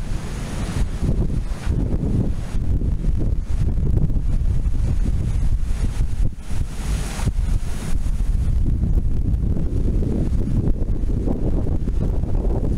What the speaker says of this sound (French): Mais comme toujours, il y a du vent.